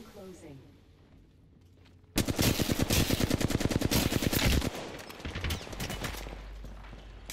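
Rapid automatic gunfire in Apex Legends, a quiet lull followed by a sudden, loud burst of fast repeated shots that hammers on for a few seconds before easing into softer trailing fire.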